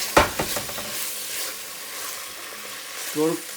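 Chopped ingredients hit a hot pan for beef noodle soup and settle into a steady loud sizzle after a few clattering knocks at the start, heard close with a brief voice near the end.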